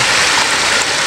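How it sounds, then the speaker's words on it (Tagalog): Heavy rain pours down while water rushes over a flooded road, a loud, dense broadband hiss and wash filling the short stretch without a break. "lalo pag umulan, ayan o, ang hagupit ng ulan"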